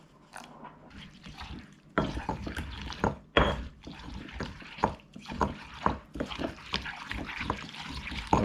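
Boiled water is poured a couple of teaspoons at a time into cranberry dipping sauce, giving close, irregular trickles and small splashes in short bursts with clinks in between.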